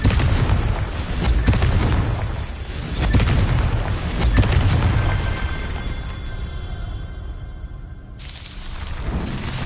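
Confringo fire spell in the Hogwarts Legacy video game, a series of loud booming blasts with rumbling, crackling tails that fade before another burst.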